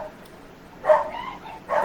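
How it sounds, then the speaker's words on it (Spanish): A dog barks a few times in the background of a religious Bible study setting, the short yips and barks fairly faint and somewhat distant, with quiet room tone between them. "Si escuchan el perro"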